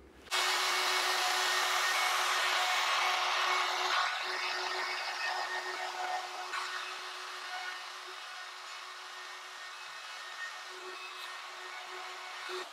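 A power sander works on a wooden charcuterie board, a loud continuous whirring hum that starts abruptly and eases slightly in level as it runs, with faint scraping of the wood underneath.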